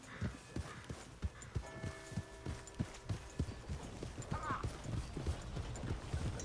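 Horse hooves clip-clop at a steady walking rhythm in a PS4 video game, sharp regular strikes up close over a faint background, with a brief whinny and some talk in the game.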